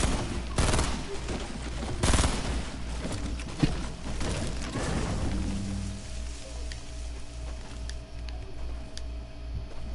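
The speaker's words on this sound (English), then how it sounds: "There's just these guys shooting each other for some reason." Gunfire from players shooting each other in the Fortnite video game crackles in several sharp bursts early on, then settles into a steady background of game noise with no voices.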